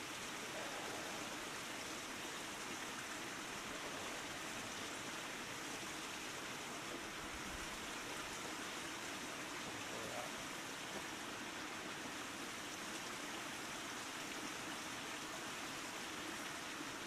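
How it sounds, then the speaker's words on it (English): A small canyon creek flows steadily along a trail, a continuous broadband rush of moving water, fairly close and even throughout with no voices. "Now that's the creek where I washed dishes and stuff back then."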